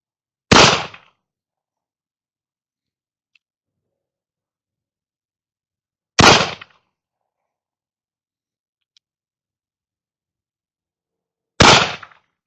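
Three sharp, loud gunshots from a Colt Pocket Police or Colt Pocket Navy revolver ring out about six seconds apart, each a single close crack with a brief decay into silence.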